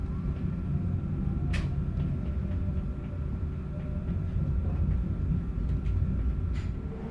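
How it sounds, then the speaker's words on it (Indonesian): The Dharmawangsa Express train rolls into Tegal station with a low, steady rumble of wagons on the rails and a few faint metallic clanks and squeals over the continuous drone. "Kereta api Dharma Wangsa Express memasuki stasiun Tegal."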